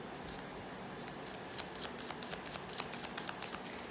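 Tarot cards being shuffled, a steady papery riffle with sharper snaps building toward the end, close and fairly loud with no voice over it.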